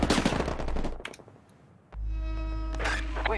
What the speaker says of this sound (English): they're shooting me in the smoke